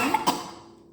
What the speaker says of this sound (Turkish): Çok çıkardığımızda öksürüyoruz